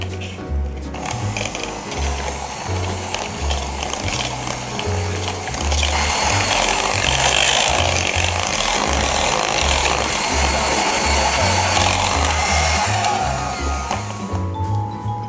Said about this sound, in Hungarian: és most folytatom a turmixolást